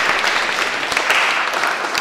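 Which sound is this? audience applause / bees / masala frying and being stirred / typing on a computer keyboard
audience applause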